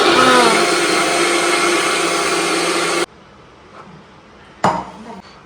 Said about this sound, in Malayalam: ഇതാണ് കേട്ടോ എൻ്റെ മിക്സി